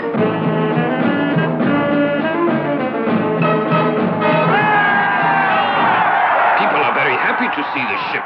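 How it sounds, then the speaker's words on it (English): A crowd cheers and yells in a cartoon scene, voices greeting a ship's arrival. The roar is loud and continuous, with whoops and shouts rising across the whole stretch and growing denser toward the end. "Listen to them cheer."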